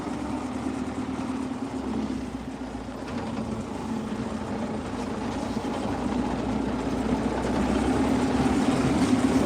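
A farm tractor engine runs steadily during spring sowing with a seed drill, a continuous low droning rumble that holds even and fairly close throughout, with no talk.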